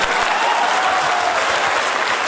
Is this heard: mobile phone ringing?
no